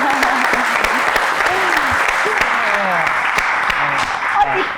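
An audience on an entertainment talk show applauds, dense steady clapping that holds evenly throughout, with voices talking over it.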